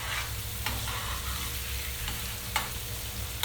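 Turkey goulash sizzles in a pan as it is stirred, a constant hissing fry punctuated by a few soft scraping strokes of a spoon.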